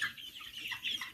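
Chickens raised for meat on a poultry farm, clucking and chattering in brief overlapping bursts at a moderate distance, with no talk.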